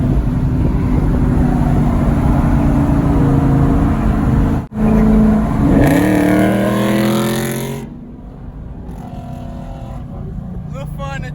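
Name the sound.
straight-piped Mopar Dodge Challenger engine revving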